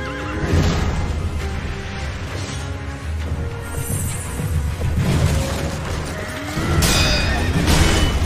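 A horse in the video game Sekiro neighs and whinnies several times over clip-clopping hooves, with loud booms and crashes of combat around it.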